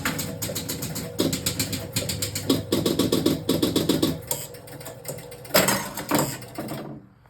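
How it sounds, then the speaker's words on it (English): An electromechanical pinball machine starts a game from the coin-door start button, with close, rapid rhythmic bursts of relay clatter and mechanical ratcheting that stop and start before ending abruptly. "So you press the start button on the coin door."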